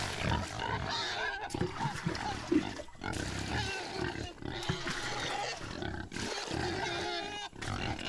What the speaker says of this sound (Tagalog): Yan mga baboy natin, oh. Gutom na sila.